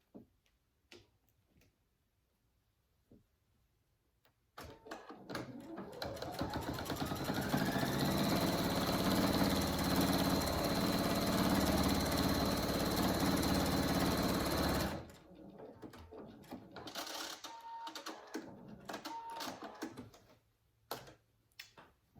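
Close up, a sewing machine stitches fabric for a three-tier hanging honeycomb animal hammock in one sustained, steady whirring run of about ten seconds, framed by quieter fabric handling and clicks.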